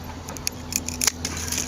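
Scissors snip through a flower stem while a large arrangement is being built, a few short crisp clicks and rustles close by over a steady low hum.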